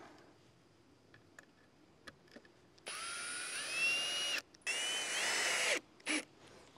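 A power drill drives the last screw into wooden boards for a homemade tomato shelter roof, whirring in two sustained bursts and a short final blip after some quiet ticks and taps, close and alone.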